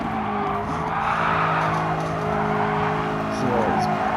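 Race car in Gran Turismo Sport braking and skidding: a steady engine drone with sustained tire squeal running throughout, a pitch shift near the end, and a voice talking over it.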